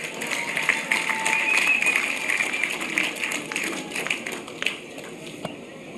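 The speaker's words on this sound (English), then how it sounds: "Clap for yourself." Audience applause at a public gathering, dense and sustained clapping from a crowd for about six seconds, tapering slightly toward the end with scattered sharper claps.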